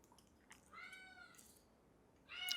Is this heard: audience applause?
no